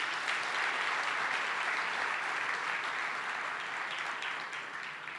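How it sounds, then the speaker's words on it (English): Broad, continuous applause from a large audience thanking a panel at a Rwanda Day gathering in San Francisco, many hands clapping steadily and evenly, tapering a little toward the close, with no voices over it. "Let's give them another round of applause."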